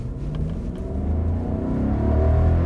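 A big sedan, a Maserati Quattroporte or Volkswagen Phaeton, pulls away in first gear, its engine rumble building gradually in loudness and pitch as it gets going.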